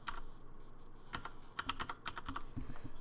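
Bursts of typing on a computer keyboard, quick irregular key clicks arriving in short clusters with brief pauses between them, close and fairly quiet with no talk.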